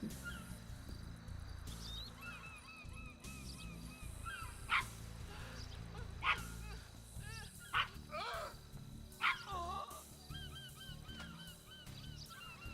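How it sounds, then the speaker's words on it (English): A dog in GTA Online barks four times at roughly even intervals, with short, sharp woofs. Honking, goose-like animal calls run through the same stretch over a low background rumble. "It sounds like I've got another dog, to be honest, but I've not really got the audio turned up."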